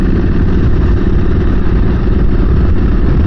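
A Royal Enfield motorcycle engine runs loud and close in a steady, unbroken low thrum with a fast pulsing beat and no pauses.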